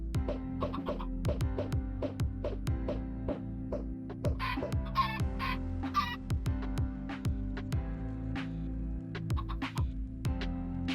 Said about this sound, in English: Finally, a chicken!